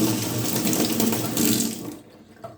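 Water runs steadily from a bathroom tap to rinse a clogged Schick Adjustable Injector Type M1 safety razor, a loud continuous splash over the sink that cuts off near the end, leaving a brief quiet tail.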